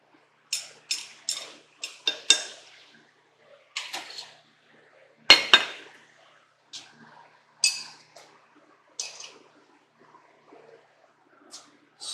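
A stir rod clinks and taps against the inside of a hot container in a series of short, sharp, irregular knocks and scrapes, close by and fairly quiet, with silent pauses between them.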